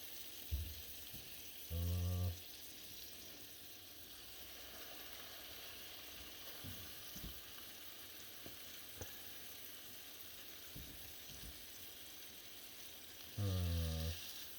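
Rainbow trout sizzles steadily in a frying pan, a constant hissing crackle with a few brief bumps and clatters, and no talking.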